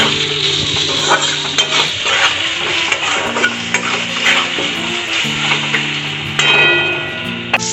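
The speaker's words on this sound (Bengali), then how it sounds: "আর দেব লবণ চিনি দিয়ে একটু নাড়াচাড়া করে নেব" Green mango being stirred in a pan with salt and sugar, a continuous loud sizzle with clinking spoon-against-pot stirring throughout.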